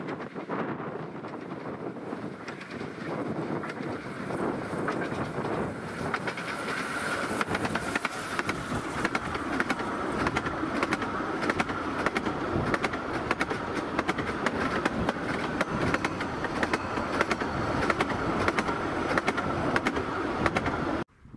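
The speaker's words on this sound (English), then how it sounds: "we'll just watch this train go past" A train passes along a rural railway line between Coltishall and Aylsham, a steady rumbling roar that builds and holds loud for about twenty seconds, with wind buffeting the microphone and faint wheel clatter, ending abruptly.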